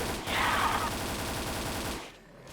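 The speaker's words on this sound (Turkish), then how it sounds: "Bir şarjör boşalttım. AK daha iyi." An AK rifle in the Roblox game fires a sustained rapid burst, a dense rattling stream of shots that holds steady before stopping abruptly.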